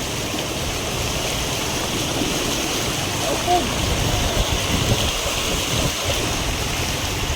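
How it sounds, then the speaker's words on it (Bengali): Floodwater after heavy rain covers a road and flows past in a constant broad rush, with wind-like noise and light disturbances in the middle. "চারিদিক তাকাবো আর শুধু জল আর জল"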